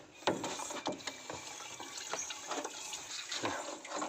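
Water gushes and splashes in irregular bursts as it flows back out of a water pump's foot valve after being pulled up from the suction pipe, close by and fairly steady throughout.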